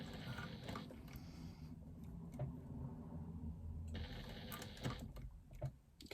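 A sewing machine top stitches around the outside of a fabric connector on an Uno wristlet, running quietly in stretches with short pauses and small ticking sounds.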